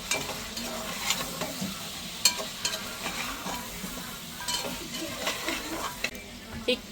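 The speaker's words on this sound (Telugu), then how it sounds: "ఇప్పుడు ఒకసారి కలిపేసుకుందాం." Red chili powder being stirred into pieces of country rooster curry in a pot, a steady scraping and sizzling with frequent spoon knocks, close and fairly loud, no talking.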